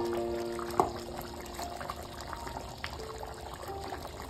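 Sauce is poured into a pan of Korean-style garlic potato chilli, giving a quiet, wet pouring and sizzling sound with a small clink near the start, soft and close, with no talk.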